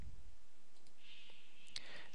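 A computer mouse clicks while selecting checkboxes in financial reporting software: a few faint, crisp clicks spaced about a second apart over a quiet, low background hum.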